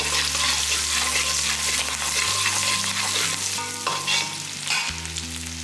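Onions frying in oil with cinnamon, cloves, star anise and curry leaves for a country chicken curry, a loud close steady sizzle with occasional stirring scrapes over a low background hum.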